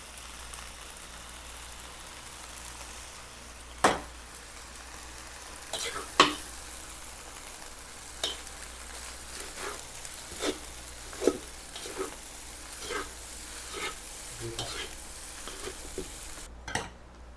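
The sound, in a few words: stirring fried rice with soy sauce in a pan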